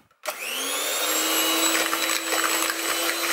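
An electric mixer whips eggs with sugar and a pinch of salt, switching on abruptly and then holding a steady, loud, high whine with a slight rise in pitch, close by and with no talk.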